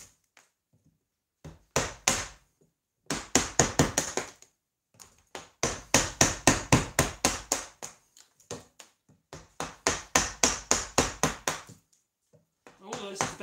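A bevel edge chisel is struck repeatedly while cutting wood for a sawhorse joined without screws, giving sharp knocks in quick rhythmic runs separated by brief pauses, close by.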